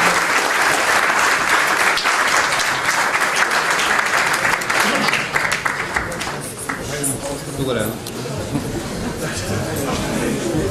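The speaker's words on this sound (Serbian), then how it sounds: "Molim da ga pozdravimo još jednim aplauzom i znak zahvalnosti." A congress reception for a new generation of Privrednik scholarship holders gives sustained, loud applause in farewell to President Josipović. It later thins into scattered claps as voices and murmuring rise.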